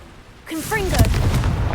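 A Confringo fire spell blast in Hogwarts Legacy, one loud whooshing burst that follows a brief voice and carries on as a roaring rumble.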